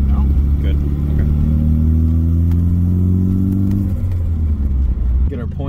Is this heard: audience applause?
no